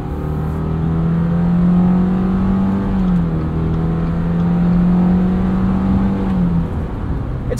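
A 2022 Subaru Forester Wilderness with a CVT accelerating from inside the cabin, its engine holding a steady droning hum with a slight pitch dip midway, loud and continuous over road and wind noise.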